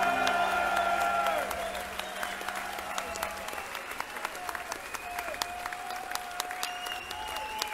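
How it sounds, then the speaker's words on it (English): Audience applause at a rock concert at the Glen Pavilion, a dense wash of clapping that thins after a few seconds into scattered claps while faint sustained tones ring underneath. "Let's give him a round of applause."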